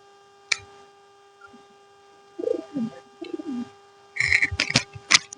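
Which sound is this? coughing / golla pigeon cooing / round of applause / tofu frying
golla pigeon cooing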